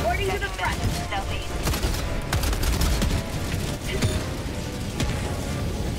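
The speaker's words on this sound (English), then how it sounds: "Mortars are killing them." Mortar fire and shell explosions in the video game Helldivers, a dense barrage of overlapping blasts and gunfire with mechanical clatter, steady and loud throughout, with faint voices underneath.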